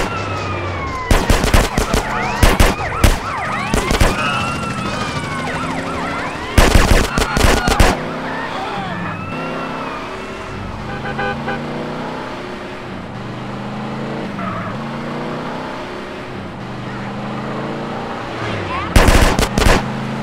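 Bursts of rapid automatic gunfire ring out in a drive-by shooting in GTA San Andreas from a BMW M5 E60 police car mod, loud clusters separated by stretches of engine noise, sirens and talk.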